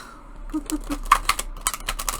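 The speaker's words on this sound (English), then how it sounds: "until you get this deck really shuffled," Rapid papery riffling and light clicking of a tarot card deck being shuffled close by, in quick uneven bursts.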